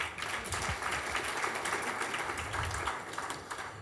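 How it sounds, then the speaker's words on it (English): An audience at a marketers' night-out event in Nairobi gives faint, steady applause, a soft wash of many hands clapping heard from a distance for a few seconds. "A clap for them."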